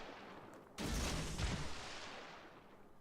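A naval gun salvo fired in World of Warships, most likely from the Fletcher or Yamato, lands as one loud, deep boom with a long rumbling tail that slowly fades. No voices are heard.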